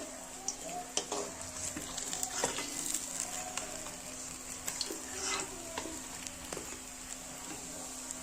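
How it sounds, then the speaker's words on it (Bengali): Soft continuous sizzle of fish frying in oil, with occasional scrapes and clicks of a utensil against the pan. "দেখতে পাচ্ছেন যে মাছটা ফ্রাই হয়ে গেছে সুন্দরভাবে"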